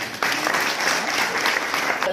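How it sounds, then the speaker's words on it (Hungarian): Audience applause at the closing evening of the Méhkerék dance camp, a dense burst of many hands clapping that starts sharply and continues steadily at close range. "Úgyhogy még egyszer egy tapsot"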